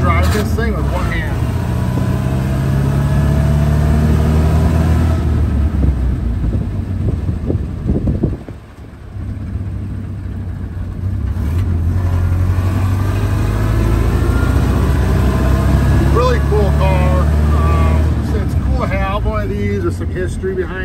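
A 1930 Ford Model A Standard Roadster drives along with a loud, steady engine drone and heavy wind buffeting. Its pitch rises and falls with a brief dip as it shifts, and someone talks throughout.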